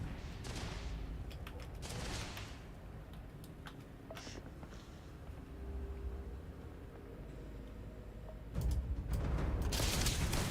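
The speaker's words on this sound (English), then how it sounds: "Oh, there's gunfire." Gunfire in the Starfield Shattered Space video game, a series of faint, sharp shots and bursts scattered over a quiet background, growing louder and denser near the end, with no talk.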